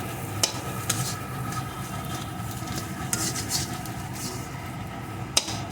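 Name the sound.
stirring frying potato filling in a pan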